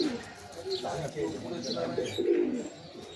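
Several pigeons coo softly in a Bengali home loft of long-flying birds, low throaty rolling calls overlapping close by, with faint chirps and someone talking over them.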